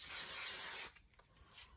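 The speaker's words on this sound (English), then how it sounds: "using spray glue, I'm using again 3M craft mount" A can of 3M Craft Mount spray glue releases one steady, close hiss of under a second, then cuts off, leaving quiet room tone with faint rustling.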